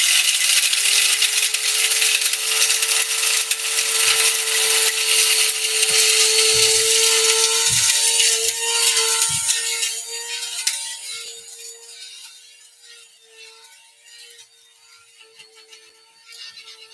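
An electric spice grinder whirs loudly and steadily, its high motor whine grinding spices for ten seconds before winding down and fading into quiet near the end.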